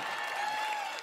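An audience at the E3 2018 Bethesda conference claps and cheers in a short, steady burst.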